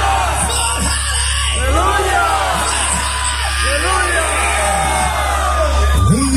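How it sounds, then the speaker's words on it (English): A live metal concert crowd at Sala Groove in Portugalete yells and screams loudly together, many overlapping voices roaring and whooping under heavy amplified hum. "scream with me, Valhalla!"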